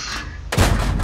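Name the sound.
tank cannon firing APCR shells in World of Tanks video game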